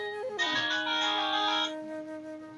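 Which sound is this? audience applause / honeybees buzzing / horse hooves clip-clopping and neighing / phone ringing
phone ringing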